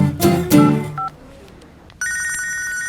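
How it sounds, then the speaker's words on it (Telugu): A phone ringtone starts after a couple of brief sounds and keeps ringing steadily, fairly close and clear. "షీలా ఫోన్ చేస్తుంది."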